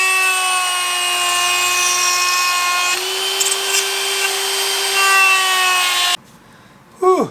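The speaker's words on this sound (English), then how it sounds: "the router's got to be one of the most versatile tools in the shop as well as the messiest" A router spins at a steady high-pitched whine while cutting cedar wood for a planter box, loud and continuous, dipping in pitch midway and then cutting off near the end before a brief final burst as it winds down.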